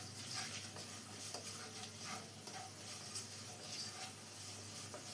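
Chili powder, turmeric and salt are stirred in a frying pan with oil, giving faint scraping strokes over a soft, steady sizzle, with no voices.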